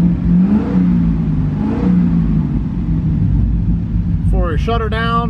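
A 2005 Chevrolet Corvette engine revving one last time: two rising revs over a steady idle rumble, with someone speaking near the end.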